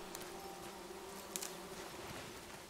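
Bees buzz steadily in an outdoor forest setting within a game, a faint continuous drone with a few brief closer flybys and no talking.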